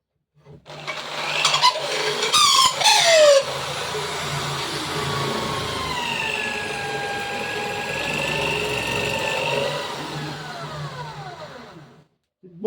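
A power tool spins a large wooden dowel at reduced speed, a steady continuous whir with sliding pitch changes as the revs shift, preceded by a few brief knocks and running alone for about eleven seconds.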